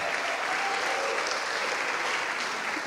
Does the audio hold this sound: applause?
yes